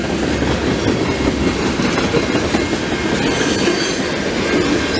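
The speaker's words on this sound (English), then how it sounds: "nice mixed freight manifest." A long CP mixed freight train rolls through a level crossing in Montreal, with steady loud wheel rumble, rhythmic clacking of cars and occasional wheel squeal, close and continuous.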